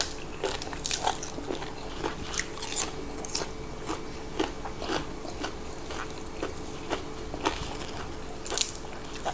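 Close, wet crunching and chewing of boiled apple snails in an irregular rhythm, with sharp crisp bites standing out against a soft background.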